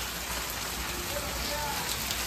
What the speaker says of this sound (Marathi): कसा आहे पाऊस दिवाळीचा?